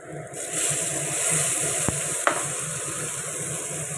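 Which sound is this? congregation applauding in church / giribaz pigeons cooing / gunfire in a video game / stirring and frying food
stirring and frying food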